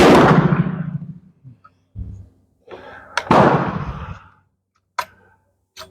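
A Sharps rifle made by IAB fires two loud, close shots, each a sharp crack trailing off into a long rolling echo, followed by a few faint clicks and small handling sounds.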